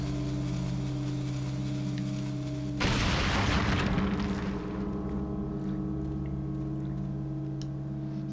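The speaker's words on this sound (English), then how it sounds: "Is that what you're throwing, hand grenades?" A single loud, close hand grenade blast in Resident Evil 4 on the GameCube erupts over a steady game-music drone, then its rumble fades over a couple of seconds.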